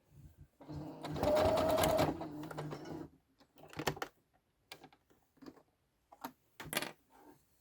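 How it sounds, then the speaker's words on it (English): A sewing machine works a few stitches at a time through a thick fleece seam: a faint, close mechanical whir runs for about two seconds, then short bursts of stitching follow with pauses between. "I can only go a few stitches at a time now."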